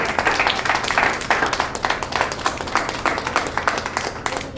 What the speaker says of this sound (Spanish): denle un fuerte aplauso a Dios por la vida de la alabanza.